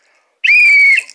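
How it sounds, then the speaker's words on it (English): A thin whistle with a ball inside, from a pet emergency kit, blown once for about half a second: a single loud, steady, shrill tone that stops cleanly. "a whistle. Kind of thin, it has a ball. I'm gonna blow it"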